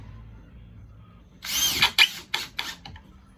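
A power drill drives 1.25-inch screws into 1.5-inch-thick wooden stair boards, a sustained whine followed by several short bursts, close and loud after a quiet start.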